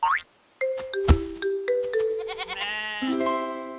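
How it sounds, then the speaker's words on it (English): A goat lets out a quavering bleat near the end, preceded by plinking, boing-like musical notes, all close and clear with nobody speaking. "A baby goat is called a kid."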